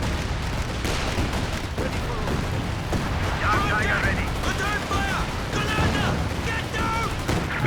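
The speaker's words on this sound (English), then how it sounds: "Sound of the walking Stuka kind of drowned out by the sound of the land mattress." Dense barrage of rocket and artillery explosions from a Land Mattress launcher in the Company of Heroes 2 strategy game, continuous rumbling blasts and crackling impacts layered over one another, loud and sustained with a voice talking underneath.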